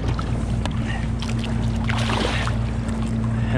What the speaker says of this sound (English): I can put the engine in and out of gear just to flow some water